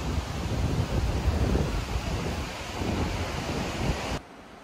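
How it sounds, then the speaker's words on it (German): Strong, steady wind on a seaside cliff in Poland roars across the microphone with a low rumbling buffet, surf-like noise, loud and continuous before dropping off abruptly near the end. "er wird mich gar nicht hören, weil es so windig ist"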